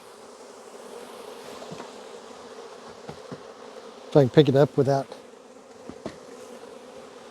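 A steady, close hum of many honeybees swarms around an opened hive during spring hive work, with someone talking briefly over the buzzing midway through.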